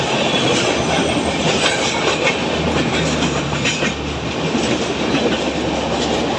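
The Pune–Mumbai Deccan Express running on rails near Khandala in the Bhor Ghats, a loud steady rumble of wheels with rhythmic clickety-clack and faint squealing.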